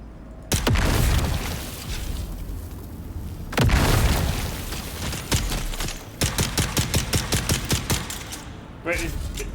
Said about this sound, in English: Sorry, there was an explosion.